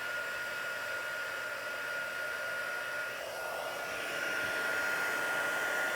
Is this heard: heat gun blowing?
yes